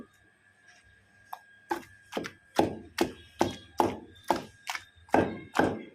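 Tomato and fenugreek-leaf chutney pounded in a stone mortar gives about ten steady, evenly spaced dull thuds. Each blow is close and clear, with a short crunchy, wet tail, and no voices are heard.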